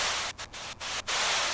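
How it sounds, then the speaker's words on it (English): White noise used as a distortion layer in electronic music production, hissing steadily while its volume swells and drops, with several sharp dips and brief near-gaps before returning loud. "So I took my white noise and I'm actually modulating the volume"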